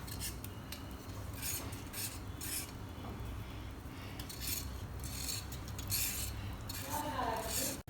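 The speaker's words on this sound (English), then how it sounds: "We're also going to add 1 tablespoon of sugar. Let's stir it up." Bechamel sauce with added sugar stirred in a pot, soft continuous scraping and light clinks of a utensil against the pan, fairly quiet and close.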